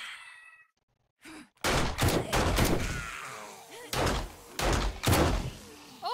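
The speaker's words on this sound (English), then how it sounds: "so just get your gun out and start shooting" Gunfire in 7 Days to Die Alpha 19.2: loud, close shots in irregular bursts, a pair early and several more spaced out later, with a voice speaking between them.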